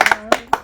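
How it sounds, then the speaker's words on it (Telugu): A handful of sharp, loud hand claps come in irregular bursts at a memorial gathering, close by and with no voices. "క్లాప్స్ కొట్టాలి గట్టిగా"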